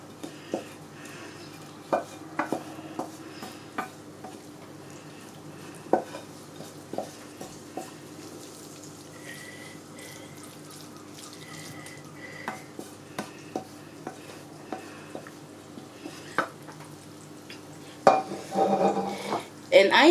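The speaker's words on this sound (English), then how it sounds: "I'm going to just dish my chakalaka out of the pot" A spoon knocks and scrapes against a pot while chakalaka, a South African vegetable relish, is served into a bowl. Scattered light clinks and scrapes run throughout, with a louder burst of clattering near the end.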